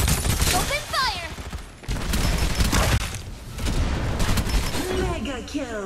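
Rapid bursts of automatic gunfire and explosions from a Farlight 84 battle royale match, loud and sustained with short pauses, mixed with game announcer voices and player speech.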